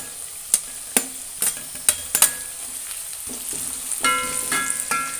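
Chopped onion fries in a pan for leftover biryani, a steady close sizzle broken by sharp scraping and clinking strokes of a spoon at irregular intervals, with no talk.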